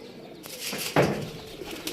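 A Shah Parwaz pigeon lands nearby with a quick flutter of wings and a soft coo, brief and close, over light outdoor ambience.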